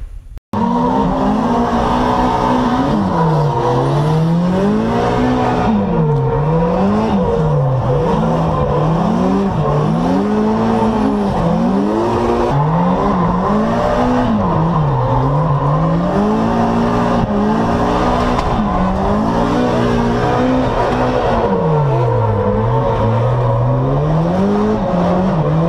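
Two cars drifting in tandem, engines revving up and down in long wavering sweeps while tires squeal and skid continuously, loud and close throughout.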